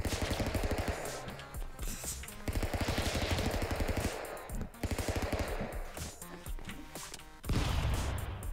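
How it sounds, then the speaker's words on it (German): Dense, rapid bursts of gunfire from a shotgun in Stick Fight: The Game rattle loudly in clusters separated by short gaps, with faint background game sounds between volleys. "Ja, Shotgun. Die Shotgun ist echt krass hier."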